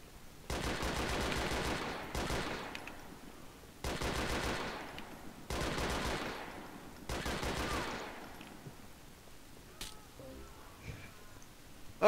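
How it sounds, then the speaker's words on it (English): Tasers fired in a police video game, five rapid crackling electric bursts each lasting about a second, evenly spaced, loud and close, followed by quieter clicks. "They're firing tasers at each other, are you kidding me?"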